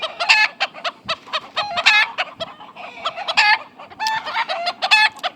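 Andalusian chickens cluck close by in quick, busy bursts, several birds overlapping in a choppy rhythm with short squawks and crowing-like calls among them.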